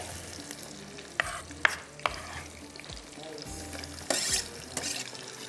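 Garam masala, ginger and garlic frying in a pot for lobia pulao: quiet sizzling under repeated sharp scrapes and clinks of a spoon stirring against the pan.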